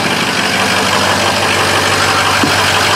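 Ford F250 4x4 truck engine running at idle: a loud, steady, low rumble that stays even throughout, with a faint knocking texture and no voices.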